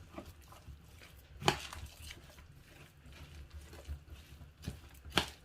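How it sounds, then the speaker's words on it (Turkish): A spoon works through a rice filling for stuffed grape leaves, the filling dressed with oil and spices, giving soft wet scrapes with two sharper clacks against the bowl, fairly close and alone. "Hepsini güzelce karıştıracağım."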